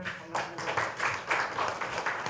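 Scattered applause from a small audience at a COVID-19 joint council launch ceremony for Gimpo, Goyang and Paju, with hand claps rising and falling in uneven waves, moderately loud.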